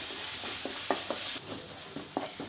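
Masala sautés in oil for an elephant yam fry, giving a faint, soft sizzle with a few quiet stirring scrapes over about two seconds.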